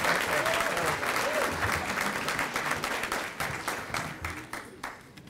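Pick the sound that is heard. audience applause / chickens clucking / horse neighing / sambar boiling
audience applause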